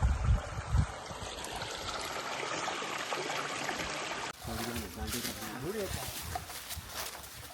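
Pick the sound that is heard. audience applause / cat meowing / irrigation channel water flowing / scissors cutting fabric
irrigation channel water flowing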